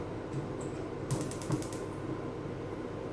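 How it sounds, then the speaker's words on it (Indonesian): Gas cooking stove being lit, a quick run of faint clicks from the igniter mechanism, close and quiet against a low steady background, with no talking. "Oke, kita nyalakan kompornya lagi."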